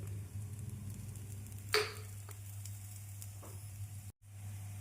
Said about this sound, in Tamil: நாம் திருப்பி போட்டு போட்டு வேக வைக்க வேண்டும் நாம் திருப்பி போட்ட பின் சிறிது எண்ணெய் ஊற்றிக்கொள்ளலாம்